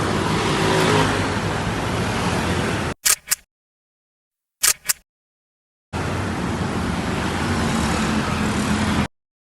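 A passing car gives two loud stretches of steady broadband road and engine roar, separated by a quiet gap with a few brief bursts.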